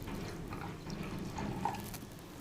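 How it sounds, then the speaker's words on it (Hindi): Water pours into a Kangen water machine during a demonstration, a quiet, brief trickle with faint drips and no talk. "तो कोई भी पानी को लिया और इस पानी को हम इसमें डालें।"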